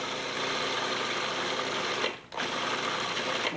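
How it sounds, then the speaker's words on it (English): A food processor whizzes mustard, fresh garlic and other ingredients into a creamy blend, running as a steady, loud whirring drone with a brief dip midway before resuming at full speed. "We're just going to whiz this in our food processor."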